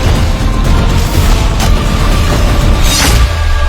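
A gunshot in an animated Attack on Titan scene, heard as loud booming low rumble with a couple of sharp bursts over dense background noise.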